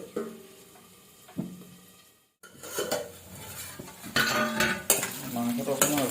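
Meat fries and is stirred in a pan with ginger and garlic, a steady sizzle under repeated scraping and clanking of a metal spoon against the pan, close and fairly loud.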